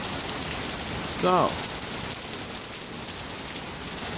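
Steady rain falling on a car with no air conditioning on a hot, humid day, a dense even hiss throughout with a brief spoken word near the start.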